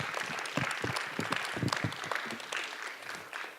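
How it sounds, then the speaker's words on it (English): A crowd at a speaker series gives a speaker a round of applause: dense, continuous clapping at moderate level, filling the whole stretch without any talking. "Give her a round of applause."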